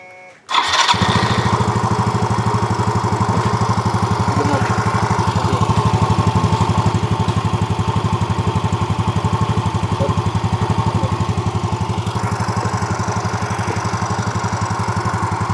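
A Yamaha Xeon scooter engine catches after a brief starter whir and settles into a steady, close, loud idle that runs on evenly, cold and alone with no speech.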